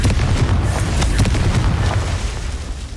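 Confringo fire spell blasting in the game Hogwarts Legacy, a loud low rumbling boom that swells and rolls on for about three seconds before slowly fading.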